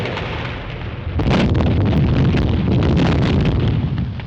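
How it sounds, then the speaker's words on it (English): An artillery barrage in a classic war comedy film: after a brief lull, heavy explosions burst in and keep rumbling in a dense, loud, continuous roar of blasts and crackling debris. "Somebody will have to crawl through that barrage."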